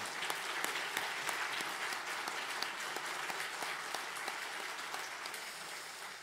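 A church congregation at a Sunday service gives encouraging applause for an elderly pastor, a broad, even wash of many hands clapping, fairly distant and steady throughout with no voices over it.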